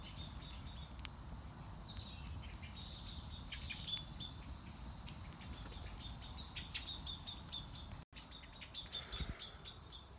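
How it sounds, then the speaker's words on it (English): Several birds chirp and tweet in quick, repeated phrases at a moderate distance over a low background rumble near a campfire. "Can you hear the birds?"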